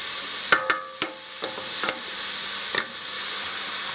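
Hamburger meat frying in oil in a pan, a steady close sizzle broken by several sharp clinks and scrapes of a utensil stirring, with no voices.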